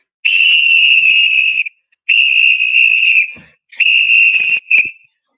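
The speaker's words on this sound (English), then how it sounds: "I can blow my whistle" A former wrestling referee blows his whistle in three long shrill blasts, the last broken into a shorter chirp, loud and close with brief gaps between.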